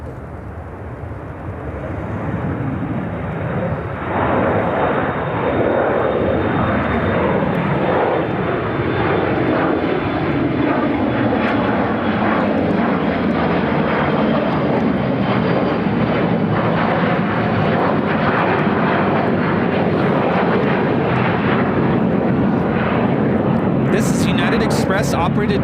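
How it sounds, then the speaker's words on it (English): A Republic Airlines Embraer E175 jet takes off from Chicago O'Hare, its engine roar swelling within seconds into a loud, sustained broadband rumble that holds steady, with a sinking whine as it climbs away. "Operated by Republic Airlines 3577 taking off to Pittsburgh on the E175."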